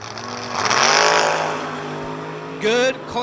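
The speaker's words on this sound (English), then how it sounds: "Good, clean drag race." Drag race cars at a drag strip, one of them a 2002 Chevrolet S10, roar past loudly with engine pitch sweeping as they pass, followed by another rising burst of engine noise near the end.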